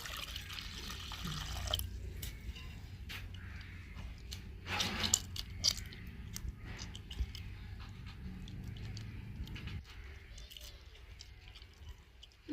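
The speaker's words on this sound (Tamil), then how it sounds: "தேவையான அளவு தண்ணி ஊற்றிக்கிறோம்." Water poured into a cooking pot holding vegetable avial and tomatoes, a faint uneven splash and trickle with a brief louder gush midway, over low background noise and occasional clinks.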